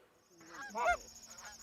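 Geese honking during a Minnesota goose hunt, a short burst of several close, overlapping honks as a flock flies over, with no voices.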